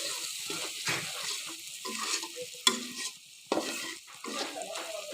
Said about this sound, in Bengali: মশলাগুলো দিয়ে আমি ঠিক 1 মিনিটের মতো এখানে ভেজে নিচ্ছি।